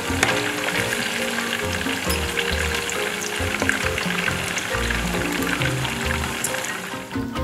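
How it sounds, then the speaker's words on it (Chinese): Food deep-fries in hot oil in a wok until golden, with a constant loud crackling sizzle and occasional stirring clatter. The sound runs steadily with no talking. "其实我觉得这个你只要炸到它是金黄色就可以了"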